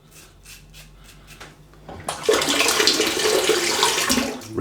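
Water runs steadily over a safety razor head during a shave, a faint trickle at first that swells into a loud, continuous rinsing rush for the last half.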